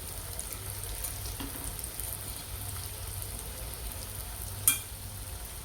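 Colocasia (taro root) pieces frying in oil over a slow flame, giving a steady, gentle sizzle with one brief clink near the end.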